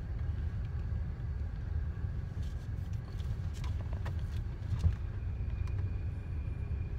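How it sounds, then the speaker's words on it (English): Power steering on a car reaching full lock while a first-time driver maneuvers in a parking lot: a steady engine rumble inside the cabin, with a faint thin whine rising near the end, no talk. "that noise, yeah, that means you're going to the very end of the steering"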